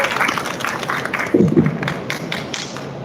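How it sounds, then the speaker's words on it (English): A corporate audience at a pharmaceutical company's live event gives thin, scattered clapping to welcome a guest speaker, with individual claps and a few thumps spread unevenly over a low room background. "So, big round of applause for Mr."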